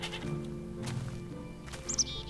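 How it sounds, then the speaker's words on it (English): Goat bleating in Minecraft, two short bleats near the end of a quiet clip with faint background game noise. "Wait a minute. That's a goat."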